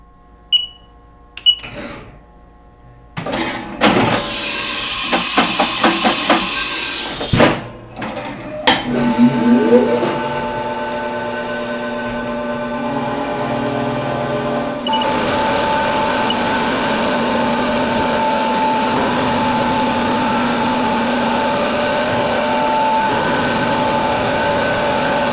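Milling machine cutting the sides of an engine part held in a vise: clattering starts and stops, then a steady high-pitched tonal whine of the cutter that runs continuously for the rest of the clip.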